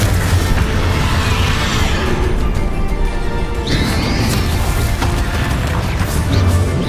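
Explosive spells cast during combat in the Hogwarts Legacy video game, a dense, loud stretch of booming blasts and crashing impacts with a rising whoosh in the middle.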